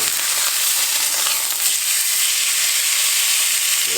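Steak sizzles loudly in a cast iron pan, a dense, steady hiss of frying fat that carries on without a break, close up and with no talking over it.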